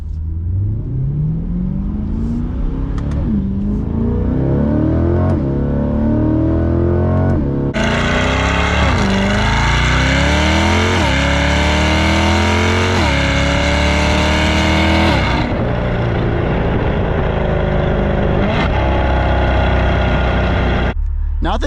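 A car with its catalytic converters removed accelerates hard, the loud cat-less exhaust rising in pitch through repeated gear pulls, roaring close and dominant, then dropping back to a lower drone with brief speech.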